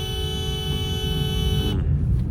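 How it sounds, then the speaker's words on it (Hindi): A Honda Amaze automatic sounds one long, steady car horn blast, loud and close, held for almost two seconds before cutting off, leaving the low rumble of road and engine noise inside the moving car. "अब मैंने इसको दिया लॉन्ग हॉर्न"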